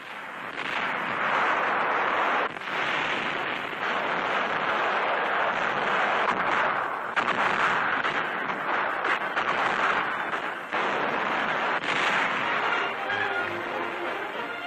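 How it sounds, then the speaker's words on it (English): Wartime bombardment of the island stronghold of Pantelleria, a continuous dense roar of explosions and heavy gunfire filling the whole stretch, loud and unbroken with brief dips, in an old WWII newsreel recording. "after 18 days of continuous pounding, the island stronghold crumbles beneath the attack"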